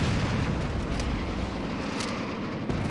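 Gunfire and explosions in the Saints Row video game, with rocket launchers mentioned, form a dense, continuous roar of blasts with a few sharper bursts standing out across the stretch.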